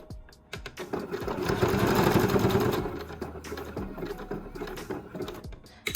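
A sewing machine stitches a lingerie hook-and-eye closure, its rapid mechanical chatter swelling in a steady run of about two seconds, then easing into lighter, slower stitching with small clicks, close and moderately loud.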